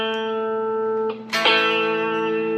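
Electric guitar played through a distortion effect, sustained buzzing chord tones that shift as a new note is struck partway through, loud and alone with no talking.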